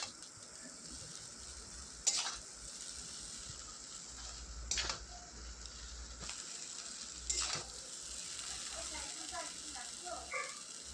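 Egg chicken chow mein is stirred in a pan over a faint, low sizzle, with several sharp metallic clacks of the utensil against the pan spaced a couple of seconds apart, quiet and close with no clear talk.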